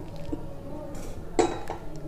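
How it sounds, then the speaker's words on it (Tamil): A ladle stirs idiyappam flour with hot water in a vessel, giving soft scraping and a few light metallic clinks, one louder clink partway through, close and fairly quiet with no talk. "ஒரு கரண்டி வச்சு நல்லா கலரிடுங்க."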